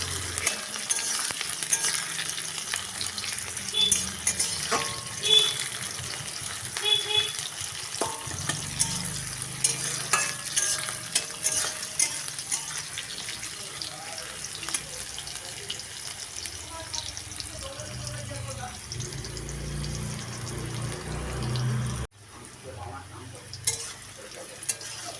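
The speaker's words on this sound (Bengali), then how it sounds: "এবারে দেব বেশি পরিমাণে কেটে রাখা পেঁয়াজ। এগুলোকেও ভেজে নেব।" Chopped onions, garlic and slit green chillies fry in a pan with a low, steady sizzle and occasional stirring scrapes, close and moderately quiet, the sound dropping away briefly near the end.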